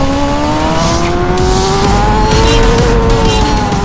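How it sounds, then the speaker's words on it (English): A BMW M1000RR superbike under hard acceleration, a loud close engine note climbing steadily in pitch with wind rush around it, continuous and without talk. "It's the BMW M1000RR."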